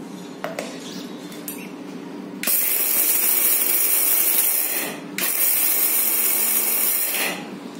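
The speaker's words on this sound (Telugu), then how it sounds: "చల్లారిపోయిన తర్వాత మిక్సీ వేద్దాం" A mixer grinder whirs loudly as it grinds roasted toor dal, dried red chillies and cumin, running in two bursts with a brief pause between, after a few faint clinks beforehand.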